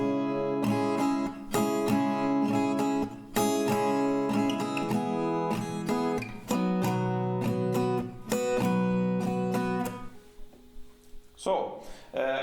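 An acoustic guitar strums a song slowly, chords ringing in separate strokes with brief pauses between, close and full; after about ten seconds the strumming fades and a voice begins talking.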